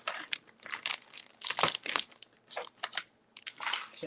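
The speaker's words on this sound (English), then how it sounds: "now I'm going to dump the seasoning" Dry seasoning is poured into a plastic freezer bag for pulled chicken freezer meals, giving close, dense crinkling and rustling bursts of plastic with a brief pause partway through.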